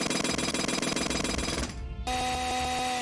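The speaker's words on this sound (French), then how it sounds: "Un marteau pilon, mais avec le moteur d'une tronçonneuse." Doom II chainsaw weapon in the video game, a loud, dense, rattling motor buzz that runs steadily, cuts out briefly, then gives way to a sustained, even tonal hum.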